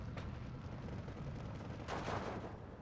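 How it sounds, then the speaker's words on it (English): An 81mm mortar fires in a wartime strategy video game, two muffled distant booms a couple of seconds apart over a steady low rumble of background battle noise. "Trying to hit them again with my 81mm mortar here now."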